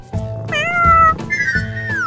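A cat meows in a few drawn-out, rising and falling cries, loud and close, with short gaps between them and no talking over it.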